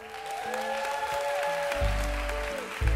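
A church congregation applauds continuously, a dense wash of clapping that stays steady with a brief swell at the end, while sustained musical tones play underneath.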